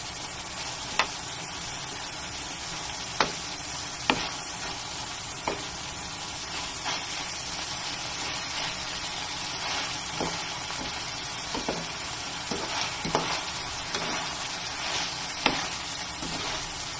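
Beef pigar pigar frying in oil: a steady, loud sizzle throughout, broken by sharp scrapes and clacks of a utensil stirring the meat in the pan every second or two, with no voices.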